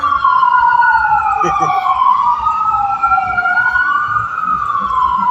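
An ambulance siren wails loudly and steadily on a city street, its pitch sweeping up and down continuously for about five seconds. A brief voice cuts in partway through.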